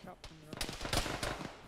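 Heavy machine gun fire rattles in a fast burst of sharp, crackling shots during a military video game, fairly faint and mixed with other game noise.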